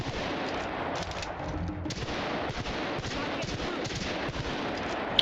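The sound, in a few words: gunfire in The Outer Worlds video game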